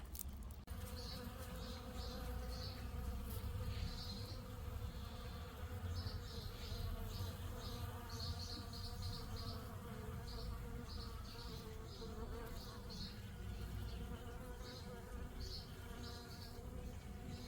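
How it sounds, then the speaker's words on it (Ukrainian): Many bees buzz steadily at a busy hive while collecting pollen, a dense continuous drone with no talk, close and moderately loud throughout. "Тут цілий вулик працює."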